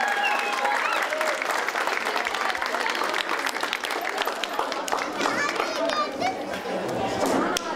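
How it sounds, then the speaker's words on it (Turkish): Guests at a wedding applaud in a bright, dense burst of clapping from a sizable crowd, continuing for several seconds, with cheers and chatter mixed in. "Alkışlar gelsin."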